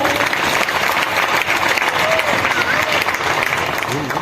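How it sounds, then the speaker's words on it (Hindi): An audience at an academy gathering gives a loud, sustained round of applause for guests who travelled a long way, dense clapping filling the whole stretch with a voice faintly beneath. "बहुत सारे लोग बहुत सारी दूरी तय करके आए हैं, उनके लिए बहुत बहुत एक जोरदार तालियां"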